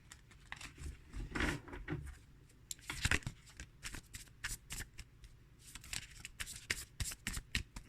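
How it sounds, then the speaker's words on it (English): A deck of tarot cards is shuffled repeatedly by hand, giving quick riffling and flicking bursts with short gaps, close and fairly quiet, with no talking. "I'm just going to give the cards a little shuffle"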